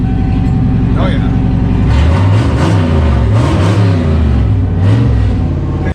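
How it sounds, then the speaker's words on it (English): An old car engine, rebuilt and fitted with an MSD ignition box, starts up and revs several times with rising and falling swells of pitch, loud and close, while people talk over it. "We're gonna go give it a quick fire, make sure that the car actually runs."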